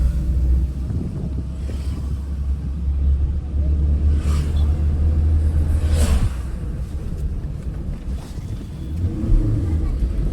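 A car moving slowly during a driving lesson, with a steady low engine and road rumble and some wind noise throughout, while an instructor talks over it.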